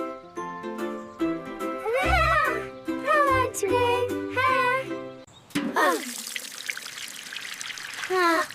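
Water poured from a container onto the base of a newly planted young tree, a trickling, splashing stream that follows a stretch of sung or tonal voices.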